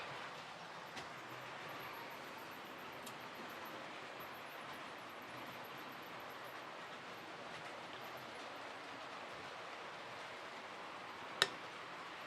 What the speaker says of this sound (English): I'll just sit here and watch the trains go around.